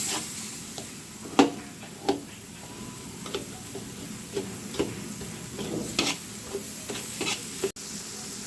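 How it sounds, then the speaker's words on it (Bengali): Spices stir-fried in oil in a pan for a Bengali fish curry, with irregular sharp spoon scrapes and taps against the pan over a low continuous sizzle, close and fairly loud. "মশলাটা একটু ভালোভাবে কষিয়ে নিচ্ছি"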